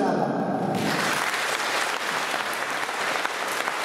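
A concert audience at a royal symphony orchestra event in Węgorzewo bursts into sustained, dense applause after a brief spoken introduction, the clapping filling the room loudly and evenly to the end.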